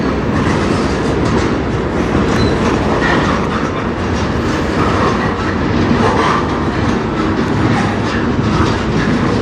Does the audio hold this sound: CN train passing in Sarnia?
yes